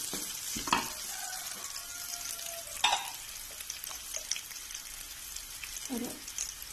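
Onions frying in a pan as spice powders are tipped in for kappa ularthiyathu, a steady soft sizzle with a few sharper stirring scrapes and taps.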